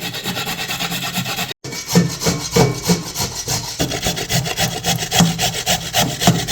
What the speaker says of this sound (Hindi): तो हल्दी तो हमने ग्रेट करके रख दी